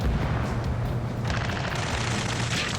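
Dense, continuous gunfire and explosions roar in an Ace Combat 7 ground battle, a loud sustained barrage with booming blasts layered together.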